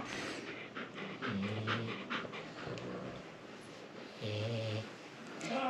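A dog, apparently a French Bulldog or Husky, pants and breathes heavily up close in a rhythmic, snorting pattern, with several louder rasping bursts of breath.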